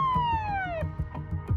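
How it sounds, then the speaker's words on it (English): A police siren wails with a falling tone on a Stockholm street, loud and close, followed by short bursts of rumbling and knocking sounds. "Sirens screamed."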